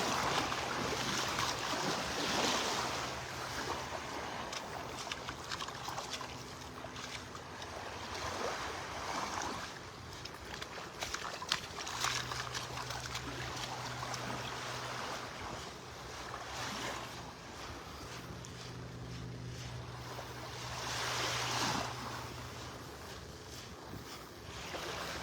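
Small, gentle waves lap continuously along a beach in North Naples, Florida. Steady wind rushes against the microphone throughout, with no speech.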